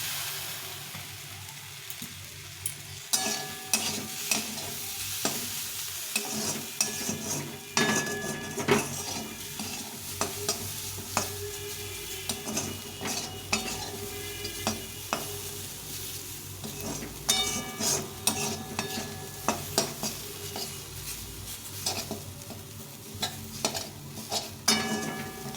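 Leftover bread pieces with soya sauce fry quietly in a pan over low heat, a soft continuous sizzle broken by regular clinks and scrapes of a spoon stirring against the metal, with no talking.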